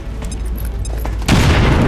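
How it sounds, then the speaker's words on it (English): A frag grenade in XCOM 2 blasts open a wall: a deep, loud boom hits after a low rumbling lead-in and rolls on with dense debris noise. "let's pop a grenade to blow open the wall over there"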